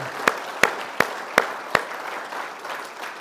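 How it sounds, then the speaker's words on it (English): Church congregation clapping in honor of mothers: five crisp, evenly spaced claps in a slow beat, then the clapping stops and a quiet room murmur remains. "So let's just clap our hands to the Lord for the gift of our mothers."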